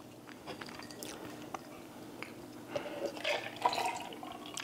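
A person chugs a protein shake made with milk, with soft wet gulps and swallowing sounds that build and grow busier toward the end, fairly quiet and close with no talking.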